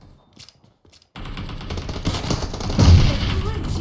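Rapid automatic gunfire in PUBG Mobile begins abruptly after a near-silent second and continues loud and dense to the end, with a heavier blast near the close.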